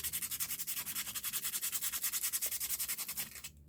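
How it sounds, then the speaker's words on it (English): Sandpaper rubs back and forth across a paper craft surface in a steady, fast rhythm of close, even scratchy strokes that stop abruptly near the end. "I love how the sandpaper kind of takes off that first layer."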